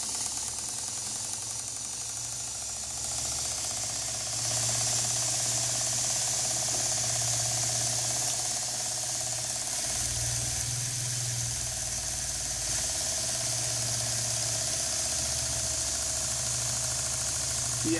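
A Stuart D10 model steam engine with new reversing gear runs steadily on its own, a continuous even mechanical hum and rhythmic churn close by, with no talking.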